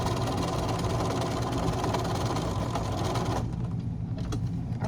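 Sewing machine running steadily while stitching the side seam of a fabric lining for a 10-inch square bucket, a continuous close mechanical whir that cuts off sharply near the end, leaving faint background.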